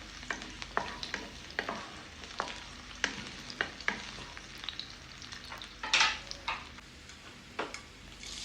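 Chopped garlic sizzles in hot oil until brown, a soft steady frying hiss punctuated by sharp clicks of a spoon stirring against the pan.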